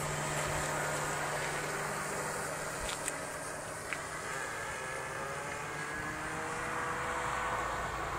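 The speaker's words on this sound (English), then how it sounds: "There's the airplane, Ashton." A large radio-controlled model airplane drones overhead at a distance, its propeller engine a steady broadband hum that holds for several seconds with faint clicks in the background.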